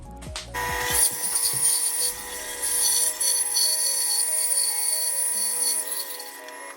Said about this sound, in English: So we shall take that over to the bandsaw and see if we can cut that.